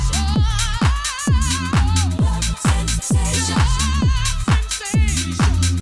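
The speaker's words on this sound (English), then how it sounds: "when we enable the sidechain, it's going to sound like this" Full song mix with sidechain compression pumping, a punchy kick and clap driving a steady beat while the pads and synths duck and swell around each hit, loud and rhythmic with no voices.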